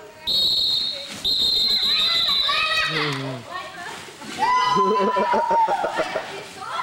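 A whistle is blown in long shrill blasts, clearly heard amid children's chatter and lively play nearby during a children's activity session.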